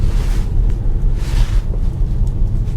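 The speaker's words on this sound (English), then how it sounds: "And you can see it's windy." Gusty wind buffeting the microphone during a drive in terrible weather, a loud low rumble rising and falling in surges with bursts of airy noise.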